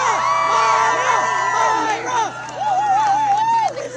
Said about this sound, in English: Please give a round of applause for Maya Rodriguez.